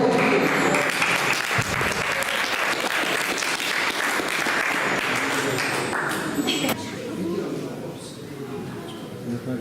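Audience applause for a singer-songwriter at a Sardinian music gathering, sustained dense clapping filling the room for nearly ten seconds and slowly thinning toward the end, with voices mixed in.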